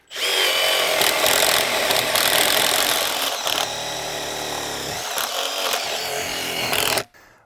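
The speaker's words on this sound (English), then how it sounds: "I've got my hole drilled now through the 3 layers of 2x6" Power drill with an auger bit boring through three stacked layers of 2x6 lumber: loud, close, continuous grinding whir with shifting load, slight changes partway through, then stopping abruptly near the end.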